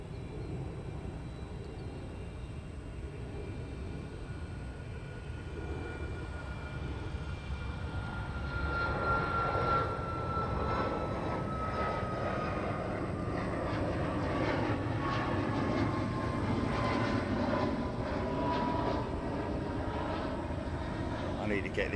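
Airliner departing runway 22 at Chicago O'Hare, a broad jet engine roar that swells from a steady rumble to a louder, nearer peak midway through, with outdoor wind noise and a person speaking over it.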